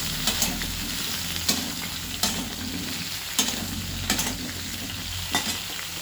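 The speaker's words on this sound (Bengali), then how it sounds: "এবার আলুগুলোকে আমি খুব ভালো করে ভেজে নেব" Potatoes sizzle steadily in hot oil in a pan while being cooked for a pointed gourd and potato curry, with a spatula stirring and scraping at regular intervals over the constant frying hiss; no voices.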